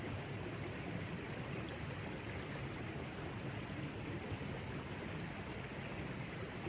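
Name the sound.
gurgling stream in the Upper Derwent Valley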